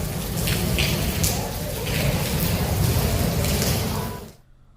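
Steady heavy rain and rushing floodwater in a flooded street in the Delhi NCR area, a broad loud wash throughout that cuts off abruptly near the end, with a faint voice underneath.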